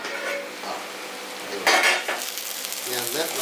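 Spinach stir-fry for a Kerala thoran is stirred in a pan, giving a close sizzle with spatula scrapes and a sharp clatter partway through, then continued mixing.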